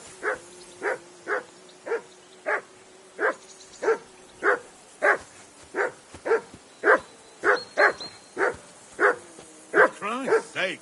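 A dog barks in a steady series of about twenty sharp yelps, close and loud, ending with a few higher whimpering whines.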